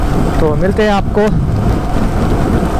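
Heavy rain pours down steadily near the sea on the road to Dhanushkodi, a broad continuous hiss filling the background while someone speaks briefly over it.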